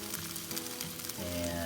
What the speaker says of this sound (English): he's grilling up a bunch of that moose heart